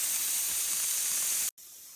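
Steady, loud hiss of steam escaping from an All-American pressure canner canning sausage, broad and continuous, cut by a brief silent gap near the end before the hissing resumes.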